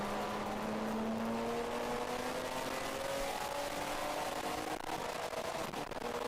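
Mazda Miata race car in an endurance race at the Alabama Grand Prix, a steady, loud engine drone rising in pitch as it pulls through a gear change, continuous and close.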